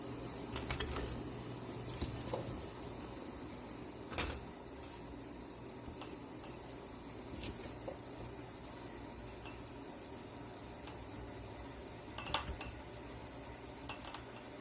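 Stirring pickles and packing glass jars in a home kitchen for canning gives sparse, quiet clinks and knocks of utensils and glass, with long soft gaps between them.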